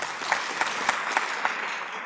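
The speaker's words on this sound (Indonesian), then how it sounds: "Tepuk tangan yang paling untuk Anda semua" Seminar audience clapping, a brief moderately quiet patter of applause with a few sharper individual claps standing out.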